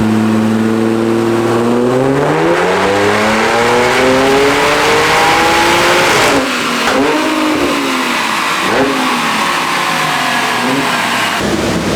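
A Stage 2+ tuned Audi S4 runs hard on a dyno, its engine rising through a long, loud, sustained rev before dropping and surging again in a few shorter pulls near the end.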